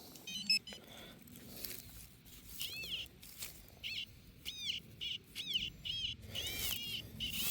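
Repeated warbling electronic metal detector beeps rise and fall in short bursts over a steady outdoor hiss, coming every second or so.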